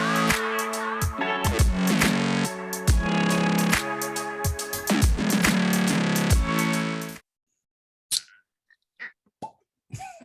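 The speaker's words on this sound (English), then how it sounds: "That was the sound of an uncorking." A cork is pulled from a bottle as a sound effect: a few short, sharp pops and plops in near silence, right after a passage of loud music cuts off.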